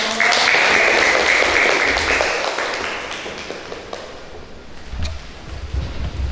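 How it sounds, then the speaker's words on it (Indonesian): Classroom applause after a group presentation, loud dense clapping from a room of students that slowly thins and softens, with a few scattered claps and faint noise near the end. "Ya, tepuk tangan untuk"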